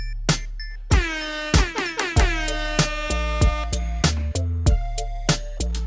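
Air horn sample blasting in a beat over punchy drums, sharp repeated hits with long ringing horn tones, loud and rhythmic across the bar.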